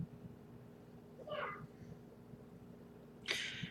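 Two short meows from house cats in a home with several cats, one near 1.4 seconds and a brighter, sharper one near 3.3 seconds, over a quiet room with a low steady hum.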